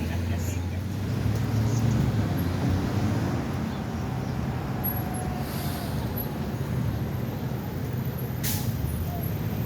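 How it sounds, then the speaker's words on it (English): Congested city street traffic with buses and air brakes, a steady rumble of idling and slow-moving vehicles with brief hissing releases, heard alongside talking. "See how much traffic they really have up here."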